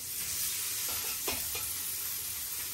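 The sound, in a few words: chopped onion and green chili frying in a wok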